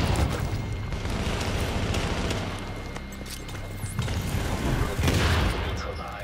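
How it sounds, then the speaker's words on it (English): A grenade blast in Tom Clancy's The Division, heard as a dense rumbling boom with crackling debris, followed by further bursts and heavy low-end impacts over a few seconds. "Oh, I threw the grenade at myself."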